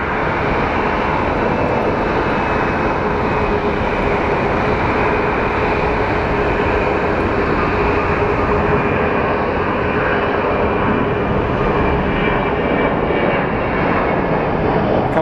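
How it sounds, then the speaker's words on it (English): A Boeing 737 airliner taking off at Phoenix Sky Harbor International Airport, a loud, continuous jet engine roar with a broad rushing drone that holds steady throughout, heard from outside near the runway with no talking. "Wow, what a late takeoff by this 737."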